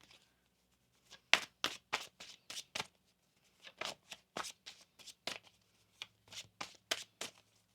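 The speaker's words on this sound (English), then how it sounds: "One more shuffle here." Tarot cards riffled in a series of quick, crisp bursts, each a short papery flutter, separated by brief pauses; close and fairly clear.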